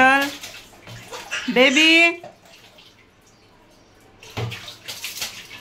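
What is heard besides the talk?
child bathing and splashing in cold water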